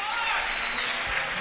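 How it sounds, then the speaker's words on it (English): Audience applause at a 2024 African/African American graduation celebration: a dense, steady wash of clapping that holds at an even level throughout, with no clear voices over it. "And so if you can give him a round of applause."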